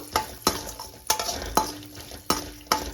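Seeds roasting in a dry pan for a dry fruit laddu, stirred with a utensil in repeated scraping strokes about every half second over a faint sizzle, close and alone.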